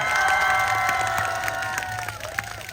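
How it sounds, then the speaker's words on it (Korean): Crowd at a Masan fish market gizzard shad festival concert cheers and claps in a steady, loud wash, with a few shouts rising over the noise as the applause slowly fades. "큰 대성할 가수니까 큰 박수 한번 부탁드리겠습니다"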